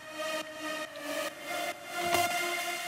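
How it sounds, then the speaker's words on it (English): Layer of a track heard with its reverb collapsed to full mono, a soft sustained wash of tones with pulsing swells and a brief brighter burst near the end, moderately quiet and without voices. "the reverb sound but full mono."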